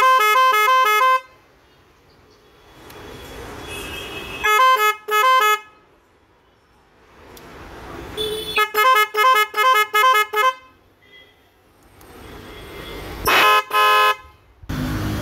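A melody car horn cycles through different tones in loud bursts: rapid stuttering pulses, warbling runs and held notes, separated by short quiet gaps with faint background noise.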